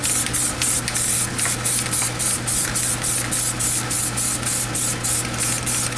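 PlastiDip is sprayed onto car rims from an aerosol can in short, rhythmic hissing bursts, close and loud over a constant low background hum.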